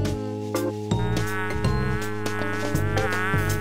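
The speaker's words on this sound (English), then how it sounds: "I think that fly is still alive in there." A fly trapped inside a container in a video game, buzzing loudly and close in choppy bursts that rise and fall against a steady tonal music bed, with no talking.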